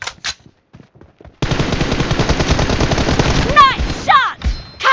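Automatic gunfire in the video game PUBG: after a few faint taps, a loud, sustained rapid burst rattles for about two seconds, then gives way to sharp whooshing and zipping effects and short bangs.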